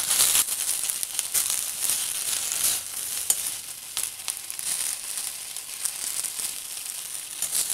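Curry leaves sizzle and crackle as they fry in about two spoons of oil in a pan for a curry leaf chutney, a steady close bright hiss with small pops and crinkly stirring throughout, no voices.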